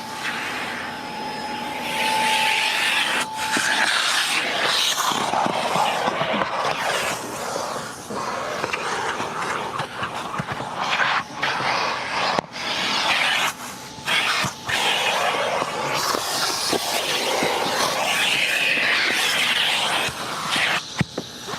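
Vacuum cleaner sucking leaves and debris out of a car interior: a loud, close, rushing roar running throughout, with pitch and intensity shifting and a few brief dropouts as the nozzle moves around.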